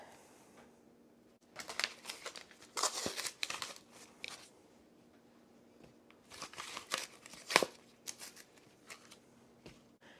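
Quiet snipping and crinkly cutting sounds of kitchen scissors cutting biscuit dough come in irregular bursts, close and soft, with short pauses between clusters of cuts.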